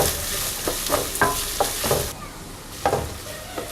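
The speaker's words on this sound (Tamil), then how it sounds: "அதில் கட் பண்ணி வச்சிருக்கேன் ஆனியன்ஸ் சேர்த்துக்கிறேன்" Onions sizzle in oil alongside fried urad and chana dal for kara paniyaram. A spatula stirs and scrapes them in several sharp strokes over a hissing fry, close up and without speech.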